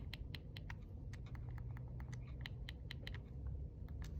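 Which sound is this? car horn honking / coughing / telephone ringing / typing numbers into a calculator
typing numbers into a calculator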